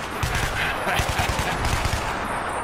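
Rapid gunfire in a Minecraft zombie apocalypse game, dense continuous bursts of shots over a loud, busy game soundtrack, steady throughout with no pauses.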